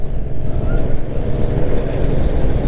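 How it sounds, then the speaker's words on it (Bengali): Hero Splendor motorcycle roaring past close by on an open road, a loud rumbling engine mixed with rushing wind noise across the whole moment. "ও বাবা স্প্লেন্ডার, পাই দিয়ে স্প্লেন্ডার বেরিয়ে যাচ্ছে, কিন্তু আওয়াজ শুনে মনে হচ্ছে হায়াবুসা যাচ্ছে"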